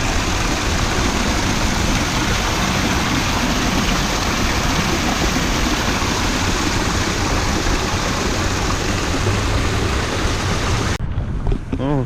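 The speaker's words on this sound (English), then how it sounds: "A waterfall." A waterfall at a national park near an RV resort in Missouri gives off a steady, loud broadband rush that fills the whole stretch without a break, then cuts off abruptly near the end.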